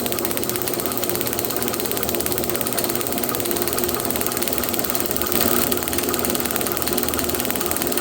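A John Deere A tractor engine with a flooding carburetor running steadily at around 450 RPM, a close, continuous rapid chugging beat that briefly swells louder as it is revved.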